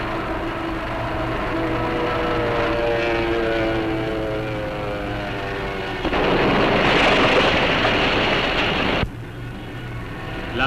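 Droning propeller aircraft engines from 1956 carrier planes with a rising, wavering pitch as they dive to attack, then a loud roaring burst of noise that cuts off abruptly, followed by a lower rumble.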